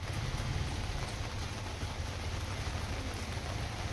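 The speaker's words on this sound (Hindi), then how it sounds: "प्रबल जोर वर्षा हो" Heavy rain falls in a dense, constant hiss of countless drops hitting surfaces nearby, with no other sounds.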